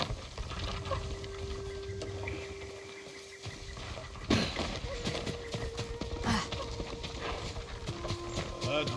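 Horses' hooves clip-clopping in the video game Ghost of Tsushima, a steady close rhythm of hoofbeats with a whinny, some rustling movement and voices talking in the background.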